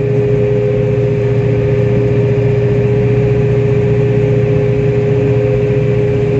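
A steady tractor engine drone runs without change throughout, a close, constant low hum with a faint tonal whine above it.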